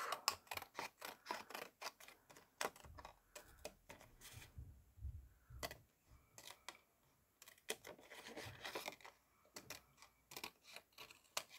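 Scissors snip again and again at paper or fabric for a handmade 18.5 cm flower bouquet, close and quiet in irregular bursts of crisp cuts with short pauses between.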